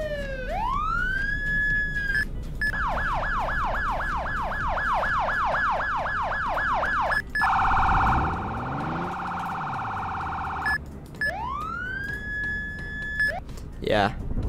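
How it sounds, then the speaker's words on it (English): Loud electronic police car sirens from the video game Emergency Response Liberty County cycle through several patterns: a rising wail, a rapid yelp, a steady tone and wails again, all close and continuous. "turn up my desktop audio so you can hear the sirens"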